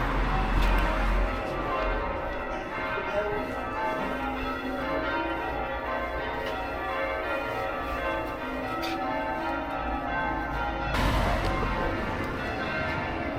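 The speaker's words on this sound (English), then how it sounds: "Oh, huh? The bells." Church bells ringing in the market town of Barnard Castle, a steady, continuous peal of layered bell tones that carries on throughout at moderate distance.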